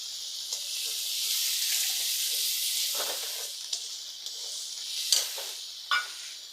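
Water and tomato paste hit a hot pan while cooking a vegetarian paneer curry, giving a loud steady sizzling hiss with a few sharp stirring scrapes and spits near the end; no talking.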